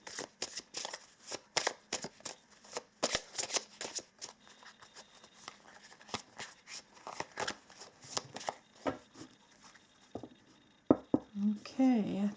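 Oracle cards shuffle in quick, repeated riffling bursts close to the microphone, a steady run of papery slaps and flicks, with a voice speaking briefly near the end.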